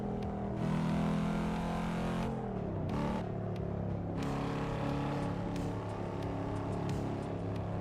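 A Monster RC car engine from the driving game Assetto Corsa revs and shifts, its tone rising and falling through several pitch changes, a continuous loud mechanical drone with brief dips.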